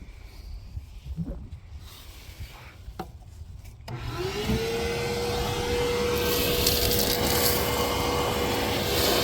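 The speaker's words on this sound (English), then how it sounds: "I'll just run the vacuum." A vacuum cleaner switches on after a few seconds of quiet shuffling in a garage where a 1974 Challenger is being disassembled, then whines steadily and loudly, close by, until the end.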